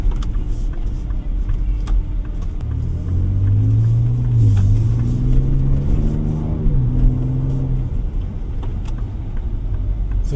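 A 2025 Ford Ranger Raptor with a 3.0 V6 in sport mode accelerates, its deep engine rumble rising in pitch then easing off, heard steadily from inside the cab over constant road noise.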